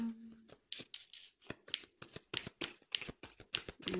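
Tarot cards being shuffled and drawn during a French-language reading, heard as a close, rapid series of crisp riffling and flicking card sounds with brief pauses between them.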